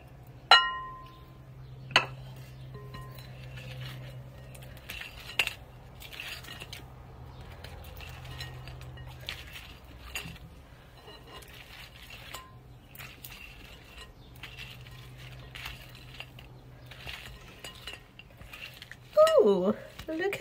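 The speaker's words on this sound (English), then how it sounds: "Just gonna pour it on top here and toss them all together with the glaze" Fried tofu is tossed with a pineapple teriyaki glaze in a bowl, with soft clinks and scrapes of a utensil against the dish spread across the clip, a low hum underneath and a person talking at times.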